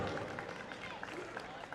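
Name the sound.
audience applause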